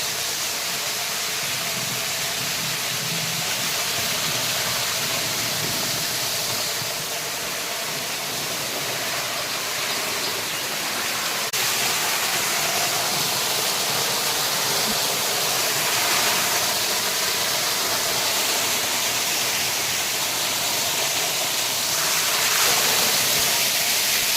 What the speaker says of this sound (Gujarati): પાણી બધું અહીંયા માંડવીમાં યુ જાય